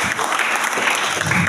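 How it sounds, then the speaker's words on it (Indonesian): A church congregation claps together in a loud, dense burst of applause that lasts briefly and evenly. "Tepuk tangan yang paling baik."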